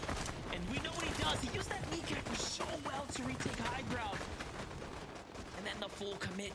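Rapid bursts of gunfire from a competitive Fortnite final fight, shots crackling continuously under excited commentary throughout.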